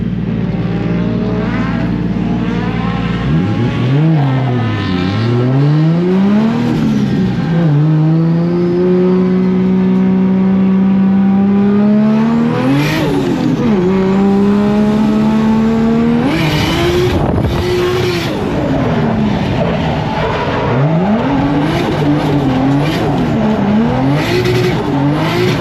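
A street car lapping a race track during practice, its engine loud and close throughout, revving up through the gears with rising and falling pitch sweeps as it accelerates, shifts and brakes into corners, with no talk.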